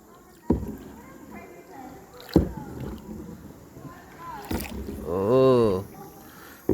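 Small boat ride on the water at El Nido, Palawan, with soft wind and water wash, a few brief knocks and bumps, and people talking on board.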